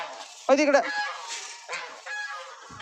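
Close, loud clucking bursts from a rooster, with a few shorter squawks afterward and faint background noise.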